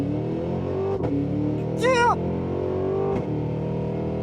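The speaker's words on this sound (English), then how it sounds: "I'm going to brake torque it off the line, build up those revs," A 682-hp 2026 Cadillac Escalade V brake-torqued and launched hard off the line, its engine droning loud and steady with a rising rev sweep midway, while a voice shouts briefly over it.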